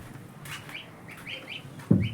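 Young chicks of a large domestic duck or goose cheep with faint, thin calls scattered through a quiet farmyard scene, ending in a brief louder rustle or thump.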